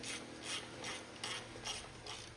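Bolt being unscrewed on a Cub Cadet 1641 lawn mower: a steady ratcheting wrench clicks in regular rhythmic bursts close up, with no talk.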